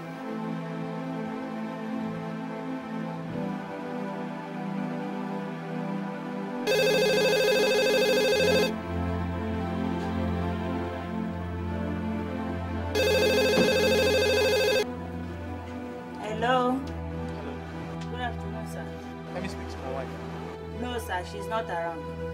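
A phone rings on a call that fails to connect, with two loud, sustained electronic ring bursts separated by a pause, set against a steady musical background.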